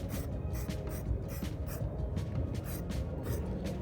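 A spray paint can hisses onto a curb as address numbers are painted, sounding in a steady run of short, evenly spaced bursts close by, with no talking.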